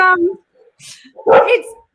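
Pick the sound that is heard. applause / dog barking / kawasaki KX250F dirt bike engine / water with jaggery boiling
dog barking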